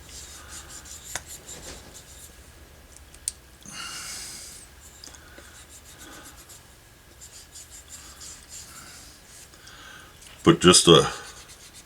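A hand rubs glued material down onto a tool chest handle, giving soft scratchy friction with a brief scrub in the middle and a louder burst of rubbing near the end, alongside a few spoken words.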